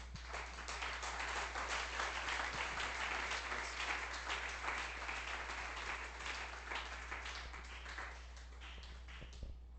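A church congregation applauds together, loud sustained clapping from many hands filling the room, rising quickly and thinning slightly toward the end, over a steady low electrical hum.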